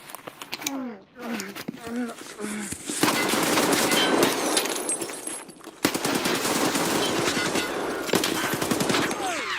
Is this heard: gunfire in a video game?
yes